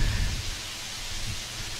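Heavy rain pours down at a temple in Chiang Mai, a steady soft hiss of broadband noise with low rumbling beneath, fairly faint and unbroken.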